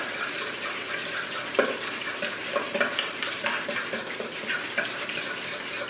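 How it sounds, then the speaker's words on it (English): An egg being beaten into sugar in a mixing bowl, a steady wet, scraping whisk with soft irregular slaps and clicks, moderately close and without talk. "It breaks down the egg and just truly gets it mixed in with that sugar."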